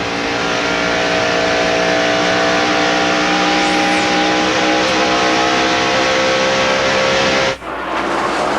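A NASCAR stock car engine roars at sustained racing speed during the 1992 Hooters 500, a loud steady high-revving drone that holds for several seconds before a sudden drop and shift in tone near the end.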